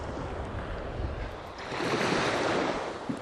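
Strong offshore wind blowing along a sea shore on a cool morning, a rushing roar of gusts and surf with microphone buffeting that builds louder midway.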